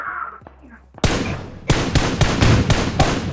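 Gunfire in PUBG Mobile breaks in after a quiet stretch with a faint voice, then a string of sharp shots repeats in a quick, irregular rhythm.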